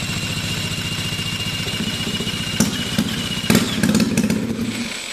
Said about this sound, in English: So we'll spin it over here and see if it'll run.